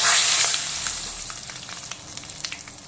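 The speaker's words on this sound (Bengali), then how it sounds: "তারপরে আমি এর মধ্যে দিয়ে দেব কালো জিরে আর তেজপাতা ফোড়ন।" Black cumin seeds and bay leaves hit hot oil with a loud sizzling burst that gradually settles into a steady crackle, with small popping spatters near the end.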